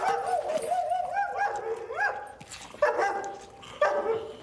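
A dog barks and yips repeatedly at moderate distance, with whimpering rising tones between sharper barks, in a series of irregular bursts and no talk over it.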